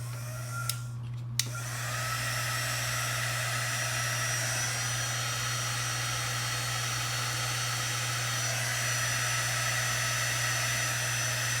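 A hair dryer blows steadily to dry paint on a tea towel rack made from a box frame, running continuously after a couple of brief clicks at the start, with no talk.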